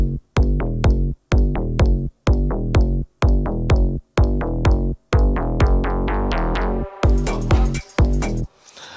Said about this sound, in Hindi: आप सुन रहे हैं कि ये मेरी किक है और ये मेरी बेस